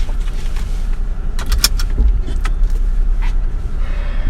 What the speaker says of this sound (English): You heard the automatic door locks there.